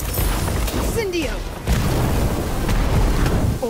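Incendio fire spell cast in the Harry Potter Magic Awakened video game, a loud booming burst with crackling blasts that continues as dense, noisy impact under game music and a voice.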